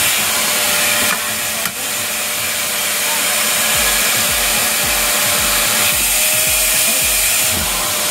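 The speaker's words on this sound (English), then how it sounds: "let's vacuum under there" A vacuum cleaner runs steadily and loudly nearby while cleaning under furniture during household spring cleaning, a continuous roar that fills the whole stretch.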